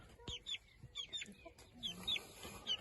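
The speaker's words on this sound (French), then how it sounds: "Donc c'est un deuxième petit coq." A young rooster clucks in a garden, giving soft, irregular clucks and short chirpy calls at close range against light background noise, with no talking.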